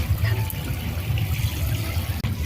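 Water splashes and trickles steadily while a pet rabbit named Lily is bathed, a continuous close wet sloshing with no voices.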